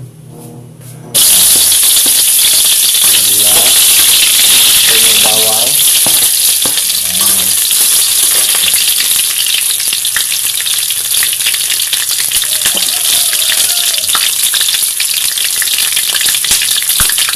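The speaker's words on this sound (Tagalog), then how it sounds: "kailangan igisa mo yung durog na paminta para mas lalong malasa yung pansit mo" Crushed black pepper sautéing in hot oil for pancit bihon, a loud, close, continuous sizzle that bursts in suddenly after a quiet moment. Scraping stirring noises run through the frying hiss.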